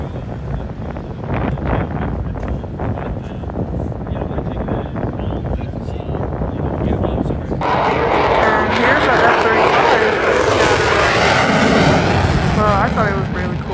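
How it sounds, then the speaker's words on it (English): A Ford aircraft taking off at AirVenture Oshkosh, its engine roar rising into a loud, broad rush with heavy wind buffeting on the microphone and a crowd's ambient noise. "here's the Ford taking off"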